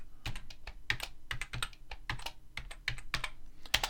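A computer keyboard being typed on to name a folder, with steady, fairly close, crisp key clicks in quick irregular bursts throughout and no voices.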